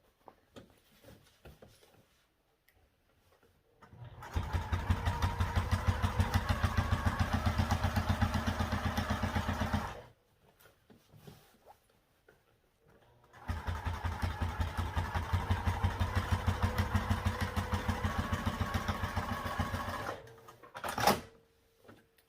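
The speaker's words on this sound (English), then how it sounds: "And then we can sew across the bottom too." A sewing machine stitches across the bottom of fabric in two long, steady runs of rapid, rhythmic whirring and clatter, separated by pauses and ending with a brief handling noise.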